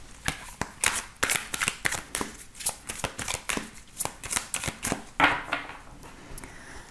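Tarot cards are shuffled by hand close up, a quick series of crisp riffling and slapping bursts in an uneven rhythm.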